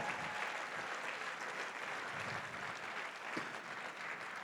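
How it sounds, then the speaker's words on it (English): Steady, dense applause from a gala audience honoring a presenter at a charity fundraiser, a continuous wash of many hands clapping at moderate distance with no talk over it. "How about a round of applause for our presenter?"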